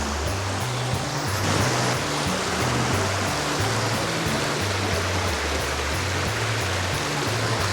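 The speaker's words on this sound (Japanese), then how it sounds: "結構流れてんな。" A mountain river rushes strongly at a trailhead crossing after a snowy hike, a loud, steady wash of water close by that fills the whole stretch, with no voices heard.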